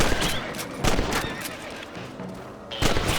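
Gunfire from a Red Dead Redemption rabbit hunt, with several sharp, loud shots cracking out at irregular intervals over a steady background din.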